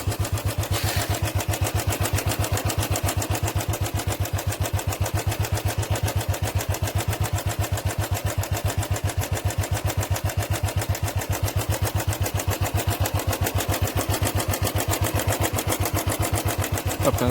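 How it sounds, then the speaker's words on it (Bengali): A Royal Enfield Bullet motorcycle engine with a tappet fault runs steadily after a kick start, a close, fast, even thumping beat with a metallic tapping layered over it, no talk. "চলো ইঞ্জিনে আওয়াজটা শোনানো যাক।"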